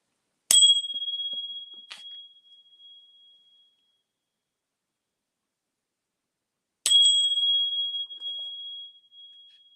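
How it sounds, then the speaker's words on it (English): A small bell dings twice, several seconds apart, each strike clear and close with a bright ring that slowly fades into silence. "I hope y'all could hear the bell"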